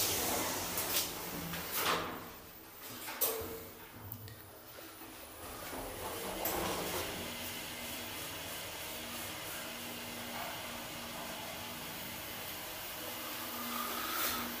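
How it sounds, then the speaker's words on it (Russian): A lift in a building at the seaside in Anapa: sliding doors thump and rumble near the start, then a steady low mechanical hum carries the car between floors, moderately quiet. "О, лифт приехал."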